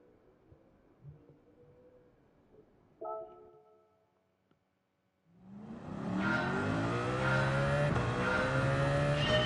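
A race car in Gran Turismo 7 during qualifying, heard first as a low idle with brief mechanical clunks, then a loud engine roaring and revving up steadily as it accelerates away, with no talking.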